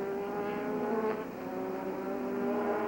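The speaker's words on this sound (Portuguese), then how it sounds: "Aí você vê o Prost se aproximando do Streiff, vai buscar a ultrapassagem." Formula 1 race cars at the 1986 Canadian Grand Prix, heard as a sustained, fairly distant engine whine with rising and falling pitch, alone and without talk.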